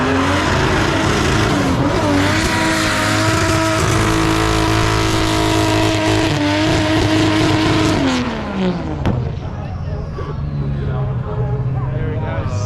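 A car does a burnout at Springnats 2022, its clutch slipping as the engine roars loudly and the tires squeal continuously, then the revs drop away near the end.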